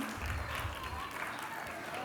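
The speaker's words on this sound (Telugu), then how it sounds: "క్లాప్ చేయండి అందరు వాళ్ళకి" An audience in a Baptist church hall during a Vacation Bible School event claps briefly, a soft, steady patter of applause that stays faint throughout.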